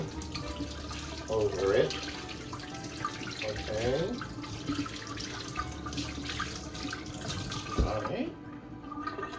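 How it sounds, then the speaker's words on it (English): Cold tap water runs over a boiled ham in a kitchen sink, a soft, steady splashing stream with a few louder gushes, while a person talks briefly over it. "And now we're going to run some cold water"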